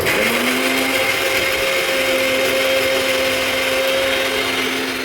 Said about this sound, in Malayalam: ഇതെല്ലാം കൂടി നമ്മളിനി മിക്സിയിൽ അരച്ചെടുക്കാം കേട്ടോ